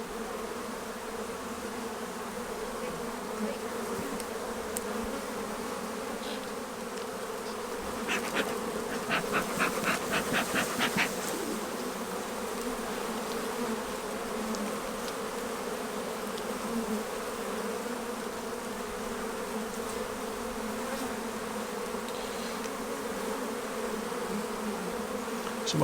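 Honey bees buzz steadily around an open beehive during a routine inspection, a dense continuous drone with a brief louder swell midway as the hive is worked.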